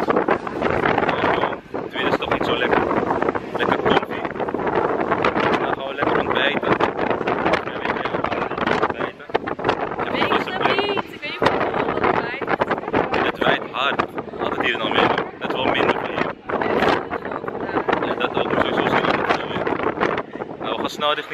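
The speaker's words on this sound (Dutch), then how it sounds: "Het is veel wind hier in Almere." Strong wind buffets a microphone outdoors in Almere, making loud, gusty rumbling and blasts that fluctuate constantly for over twenty seconds and cover any other sound.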